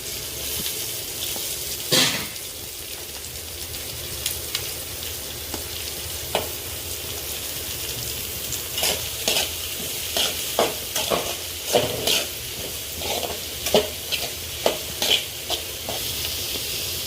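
Onions and green chilli frying in oil for a chicken gravy, a continuous close sizzle with a spoon scraping and stirring at irregular intervals that grow busier toward the end, with no voices.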